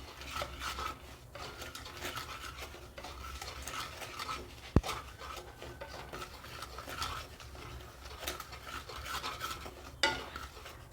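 Semolina dry-roasting in a kadai, stirred steadily so the grains rasp and scrape against the metal pan in a continuous close-up shuffle, with an occasional sharp clink of the spoon against the rim and no talking.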